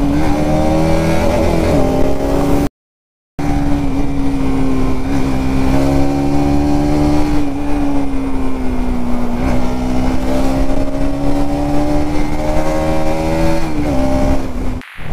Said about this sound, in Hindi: और जाम देख लो भाई, बहुत ज़्यादा जाम है।